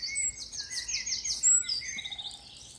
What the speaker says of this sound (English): It's a wren.